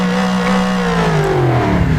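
A video-game car's engine drones steadily on an extreme downhill mountain course, its gearbox broken so power never reaches the wheels; the pitch slides slowly downward, loud and close, with no voices.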